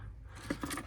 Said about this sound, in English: Luckily for me, I got some good old wire cutters for it.